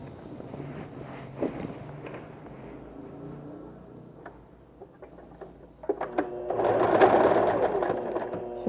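A sewing machine stitches the seam of a men's backpack, running in steady bursts with a brief pause and a louder, denser run near the end, the rapid needle rhythm close and clear.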